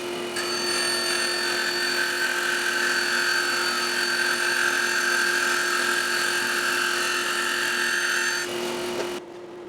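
A saw on a carriage slices yellowheart wood into tapered staves, a loud, steady high-pitched whine with a sustained tone that runs unbroken before cutting off near the end.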